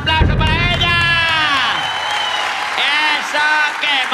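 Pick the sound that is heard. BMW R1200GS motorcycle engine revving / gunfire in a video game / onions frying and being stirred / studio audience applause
studio audience applause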